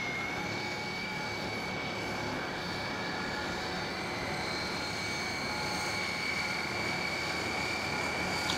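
Engine number 2 of a Hawker Siddeley HS 748 turboprop spools up in a flight simulator, a steady hum with a rising tonal whine held evenly, alone and without speech.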